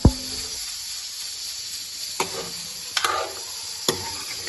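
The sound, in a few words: meat frying with whole spices in a pan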